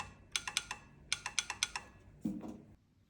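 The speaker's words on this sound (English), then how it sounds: "these hand gears are really nice. It's a nice metal finish, reachable, and it has this clicky sound" Several sharp mechanical clicks in quick pairs and runs from metal paddle shifters on a Thrustmaster T-GT II racing wheel, fairly quiet and close, followed by a softer clunk.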